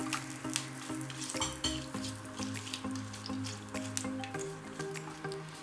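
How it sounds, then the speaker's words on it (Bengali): Whole cardamom, cinnamon pieces and cloves frying in hot oil, a moderate crackling sizzle with soft wet spatters and faint stirring, close up and steady, with a low tonal hum running underneath. "3টি ছোট এলাচ, 2 টুকরো দারুচিনি, 3-4টি লং দিয়ে দিচ্ছি। ফ্লেভার আসা পর্যন্ত একটু ভেজে নিচ্ছি।"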